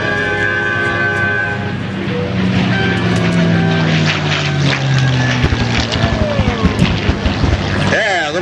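Propeller fighter plane at an airshow sweeping in on a low attack pass, a loud rising and falling engine drone that builds over several seconds with a pitch sweep, under a crowd's chatter.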